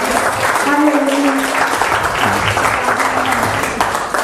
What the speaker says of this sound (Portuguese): Por isso, com alegria, aplaudimos o teu nome,